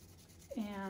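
Sandpaper rubs a pencil tip into a cone, a brief close scratchy rasp that starts just past halfway through the sound and continues to the end, quiet and alone.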